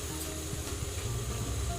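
Steam hisses steadily from an idli steamer vessel, a dense continuous rushing close by with no pauses.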